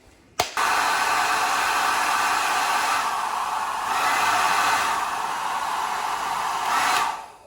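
A cheap all-plastic HiFairy hammerhead-style hair dryer switches on with a click and blows a steady, loud, close airflow roar for about seven seconds, shifting slightly in pitch partway through before cutting off.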